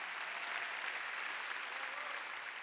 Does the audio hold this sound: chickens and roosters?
no